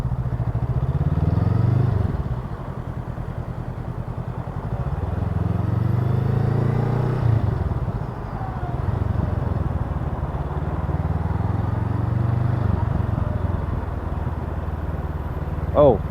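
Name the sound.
Honda Rebel CMX500 motorcycle riding on test ride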